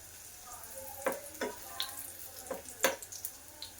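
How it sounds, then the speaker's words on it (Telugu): Colocasia (taro root) pieces fry in a pan with a soft background sizzle and several sharp, scattered pops and crackles, fairly quiet and close. "సో చూడండి నేను ఇలా నీట్గా ఫ్రై చేసుకుంటున్నాను"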